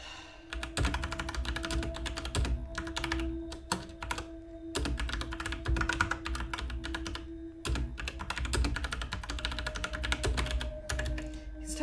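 Keyboard typing from the video game The Infectious Madness of Dr. Dekker: continuous rapid clacking of keys in steady bursts with brief pauses, close and fairly loud, over a faint low hum.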